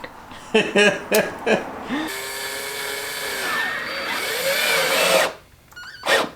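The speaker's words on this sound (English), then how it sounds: "Have the drill spinning as you pull it back out." A power drill whirs steadily for several seconds, its pitch shifting as it works, with brief talk before and after.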